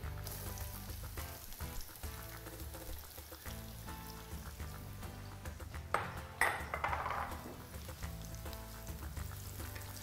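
Garlic and chopped red onion cook gently in a paella pan, giving a soft, steady sizzle with a few faint metallic clinks of utensils against the pan.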